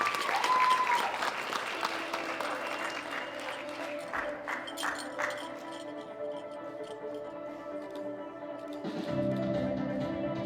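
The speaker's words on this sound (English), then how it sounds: "Big round of applause for all of ours." Audience applause at a junior world powerlifting championship fills the hall as steady, dense clapping that carries on alone for about ten seconds, with a brief tone near the start.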